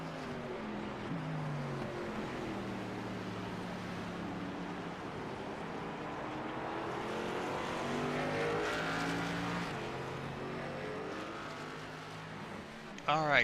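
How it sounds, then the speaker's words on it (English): Race car engine in a Gen 6 Cup Series sim racing game, revving steadily with stepped pitch drops as it downshifts into corners, loud and continuous with a voice talking over it. "Here's some downshifting here."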